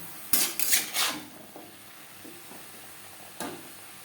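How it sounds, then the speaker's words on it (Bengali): Vegetables with salt and turmeric are stirred in a metal pot, with a cluster of loud scraping clanks early on, a soft sizzle under them, and one more sharp clank near the end. "লবণ হলুদ সবজির সাথে বেশ ভালো করে মিক্সড করে দেবো।"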